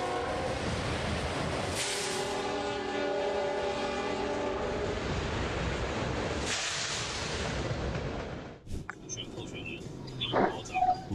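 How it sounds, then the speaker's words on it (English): At a railroad crossing, a passing train sounds its horn in a long, loud blast, then a second one, over a steady rumble of rolling wheels before the noise cuts to quieter road sounds. "Guys, don't try to beat the train, it will always win."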